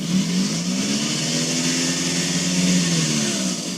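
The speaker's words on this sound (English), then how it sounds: "you can force the engine to come on, which is what I just did there" A 2011 Toyota Estima Hybrid's petrol engine starting up and running, a steady mid-pitched hum with a rising and falling drone, close and continuous, with no talking.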